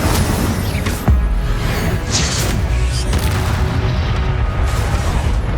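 A fire spell cast in the Hogwarts Legacy video game amid dense combat effects: a heavy booming burst near the start, then continuous loud rumbling and whooshing game noise throughout.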